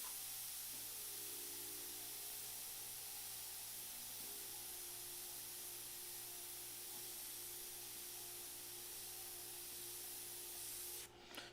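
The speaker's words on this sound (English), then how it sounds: "That's why I'm sitting here messing with my airbrush so much" An airbrush spraying paint gives a continuous, even hiss with a faint steady hum underneath, close and unbroken throughout before a short rustle at the very end.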